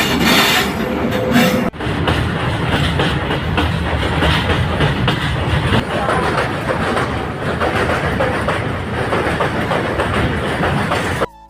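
A train rolls out of Maliguda railway tunnel with loud, continuous rumbling and clattering wheels on the track, close by and steady, with no talk over it.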